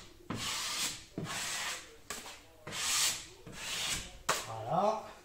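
Drywall taping knife wiping joint compound along the edges of plasterboard joint tape, five close scraping strokes in a steady rhythm with short pauses between them.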